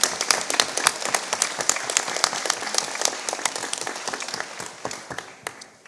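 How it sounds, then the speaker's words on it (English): An audience at a Palazzo Diedo arts and culture talk claps for a speaker, with sharp, scattered hand claps that start strong and gradually thin out toward the end. "Big round of applause for Joshua."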